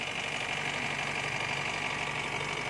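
Diesel engine of a new Honda CR-V idling steadily after its cleaned battery terminals were reconnected, a close, even mechanical rumble with no other sounds.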